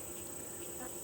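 Honey bees buzzing at a hive entrance as a new queen is introduced, a steady close drone of many wings humming without pause, fairly faint, over a brief moment.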